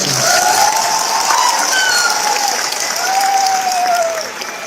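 Steady crowd applause rolls through an audience at a sales presentation about a fan, continuous dense clapping with a few whistles or cheers cutting through, fading slightly at the end.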